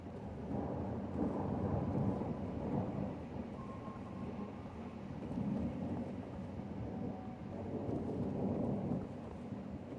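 Video game storm in Fallout 4: steady rain pours with low rumbling thunder rolling in swells, a dense, continuous storm wash with no voices.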